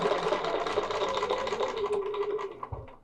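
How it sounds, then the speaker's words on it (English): A sewing machine stitches a quilt along a stitch path, a rapid steady mechanical chatter running close and continuous before easing off near the end, with no talking. "So that was stitching along the stitch path."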